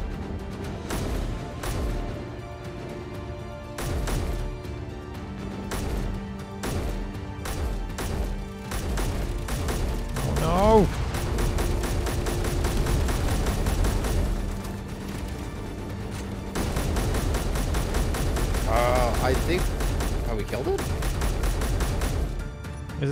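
Heavy weapon fire from a ship in a space game, with missiles and guns blasting through an asteroid, many rapid shots, booms and crashes, loud and continuous over a droning engine bed.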